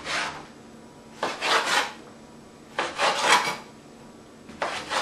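A knife cuts coconut meat into small pieces with rasping, scraping strokes on a board. Three bursts of slicing come a second or two apart, close and fairly loud, with quiet gaps between.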